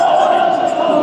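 Large rally crowd of thousands at a street protest, a dense, loud wash of voices in a brief, steady burst.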